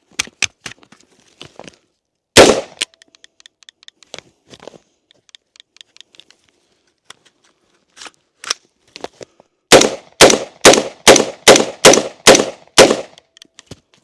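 An Andro Army ACI-15 airsoft rifle cycles and fires outdoors: scattered small clicks, one loud crack, then near the end a rapid run of about eight sharp, evenly spaced reports, close and loud.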